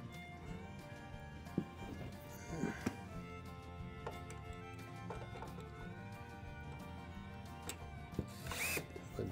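A power drill drives screws into pre-drilled holes in a studio desk, heard as faint ratcheting whirs in short bursts with clicks between them, under quiet talk.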